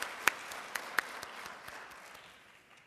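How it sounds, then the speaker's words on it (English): Applause from an audience at a 2017 Armed Services awards ceremony, fading out after a concert choir's prelude performance; sparse, soft claps trail off into a quiet room. "Let's have another round of applause for Lenape's High School Concert Choir"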